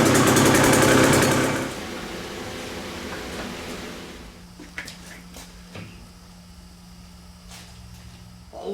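A 2021 KTM 125XC dirt bike engine runs loud and revving for the first couple of seconds, then settles into a steady, quieter drone that continues to the end.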